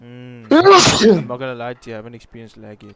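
A single sharp, loud sneeze bursts out during a Call of Duty stream, followed at once by someone talking casually.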